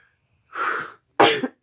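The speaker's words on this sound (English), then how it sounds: "I'm sorry for coughing. I really am." Two sharp coughs close to the mic, separated by a short pause, with a brief third cough starting at the end.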